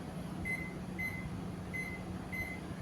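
A microwave oven hums steadily at low volume while baking an Oreo cake, with faint periodic tonal whines over the running drone.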